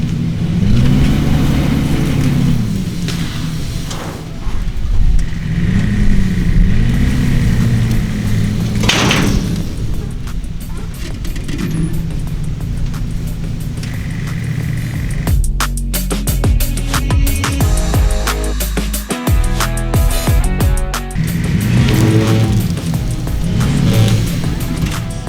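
Camaro race car engine rumbling and revving in loud bursts as it creeps up onto ramps little by little, with a few clunks and a possible door slam along the way.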